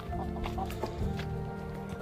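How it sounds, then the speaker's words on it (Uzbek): A black German rooster clucks in a short, uneven series of calls close by, set against steady low farmyard background noise with no talking. "Qora nemetskiy xo'roz."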